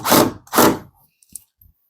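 Two short bursts of a power drill whirring up close, driving screws into an interior door hinge, followed by a few faint clicks and taps.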